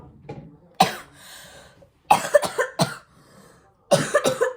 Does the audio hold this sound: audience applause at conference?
no